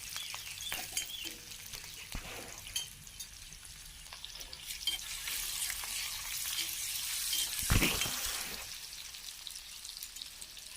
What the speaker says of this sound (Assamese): পিঁয়াজখিনি যেতিয়ালৈকে ৰঙচুৱা হৈ নাযায় মই ঠিক তেনেকৈ ভাজি থাকিম